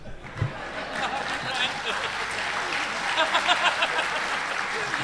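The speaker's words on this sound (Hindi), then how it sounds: "2-3 लोग ताली बजा रहे हैं" Scattered clapping from a small audience at a Hindi poetry recitation, a few hands patting unevenly and fairly close, with murmuring and faint chuckles mixed in for about five seconds.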